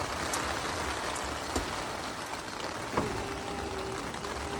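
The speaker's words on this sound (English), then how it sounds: "it's getting really windy and rainy" Steady rain patters and hisses across surfaces, a continuous close wash of drops with a few louder taps, and no voices.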